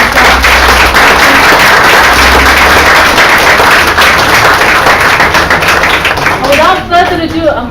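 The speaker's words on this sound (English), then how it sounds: "for us to give a round of applause" A dinner audience gives a loud, sustained round of applause at a community event, dense clapping filling the room for about seven seconds before thinning out, with voices rising near the end.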